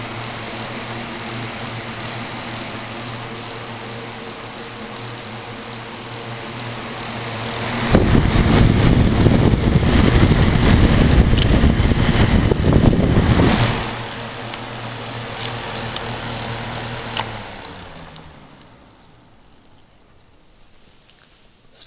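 A Holmes box fan runs with a steady whooshing hum that swells louder for several seconds in the middle, then eases back and fades down gradually as it spins down near the end.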